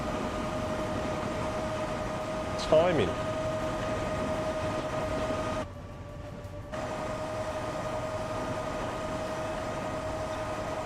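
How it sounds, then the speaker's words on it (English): A train in the Transport Fever 2 video game rolls along its rails with a steady low rumble and hum, a brief whistle-like chirp rising partway through, while a voice speaks briefly over it. "Alright, we're on the route to Swindon on the train."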